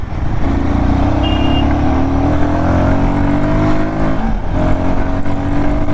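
A Royal Enfield Guerrilla 450 motorcycle accelerating hard, its loud, close engine note rising smoothly in pitch through a sustained run, dipping briefly on a gear change before climbing again.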